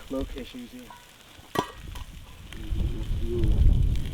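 Onion and thinly sliced potato sizzle and crackle in a hot pan, the frying growing louder and denser, with a clatter of a utensil partway through.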